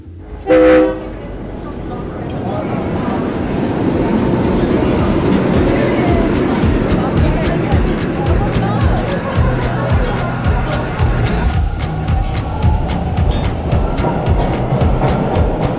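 A short train horn blast, then a steady loud rumble and clatter of a moving train travelling to Sydney, Australia, with faint voices underneath.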